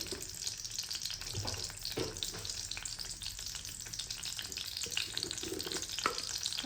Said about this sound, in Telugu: ఇప్పుడు ఆవాలు, పచ్చనిపప్పు, మినప్పప్పు, జీలకర్ర ఉన్నవి తాలింపు గింజలు అయితే వేసేసుకుంటున్నా